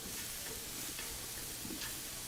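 Wooden spoon stirring food in a frying pan, a steady sizzle with soft scraping strokes of the spoon against the pan, close and continuous without talk.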